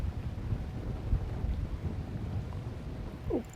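Wind buffets the microphone on a fishing boat out on the water, a low rumbling gusty roar with faint splashes and creaks, steady and close for a few seconds.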